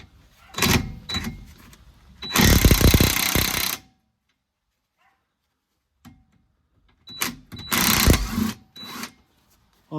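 A 16 mm socket works loose the lower bolt of a rear shock absorber, giving two bursts of loud, buzzing ratchet or impact-tool noise with scraping and clicks around them and a silent gap between.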